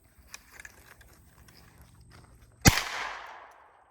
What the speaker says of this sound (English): Go ahead and send some rounds down range with it.